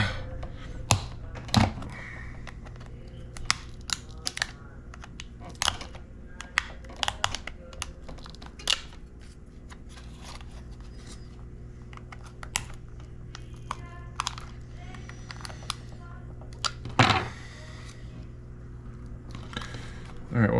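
A knife prying open a DJI Mavic Air drone battery case, heard as scattered close clicks, taps and sharp plastic snaps over a quiet background hum, with no talking.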